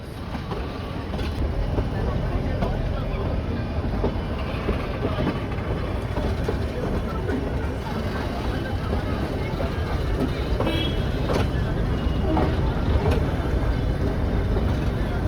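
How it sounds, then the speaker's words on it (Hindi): The Ooty toy train shunts backward onto a station platform with a steady rumble and scattered clanks of rail cars, heard amid busy crowd noise with voices around. "इस वाले ट्रैक से ट्रेन आई थी, अभी बैकवर्ड शंटिंग हो रही है इसकी प्लेटफॉर्म पे।"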